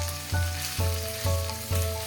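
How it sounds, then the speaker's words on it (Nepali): Chicken fries in a hot pan for a chicken curry, a steady sizzle broken by four regular stirring scrapes and bursts of spitting, close and alone with no voices. "ल अब 7-8 मिनट जति यसलाई चलाउँदै फ्राई गरेपछि हाम्रो चिकन यतिको भएको छ।"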